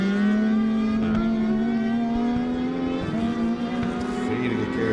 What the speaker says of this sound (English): Feeding the gears as they go to the checkered flag